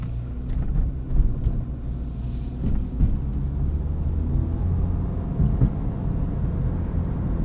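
A 2023 Honda HR-V EX-L AWD with a continuously variable transmission being driven, heard from inside the cabin as a steady low whirring drone with road rumble, loud and continuous, with no talking.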